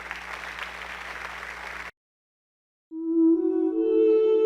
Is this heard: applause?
yes